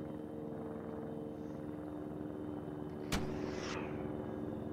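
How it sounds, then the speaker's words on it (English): Enemy helicopter in a military shooter game, landing nearby: a steady low rotor drone and engine hum runs throughout, with a sharp crack near the middle followed by a brief hiss. "We have an enemy chopper landing on the HVT spas."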